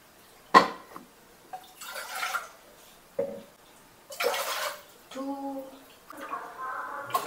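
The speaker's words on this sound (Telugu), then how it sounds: "అండ్ 5 గ్లాసెస్ ఆఫ్ వాటర్ వేసాను" Water is poured from a small tea glass into a pot in a home kitchen, a few short splashes and clinks spaced between stretches of someone talking.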